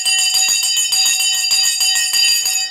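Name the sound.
stock market closing bell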